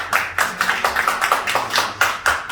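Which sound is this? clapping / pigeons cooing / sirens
clapping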